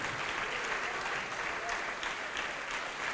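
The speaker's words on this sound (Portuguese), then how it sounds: "Dê uma salva de palmas" A church congregation claps during a sermon on prophecy. Steady, dense applause fills the room at a moderate level without pause or talk.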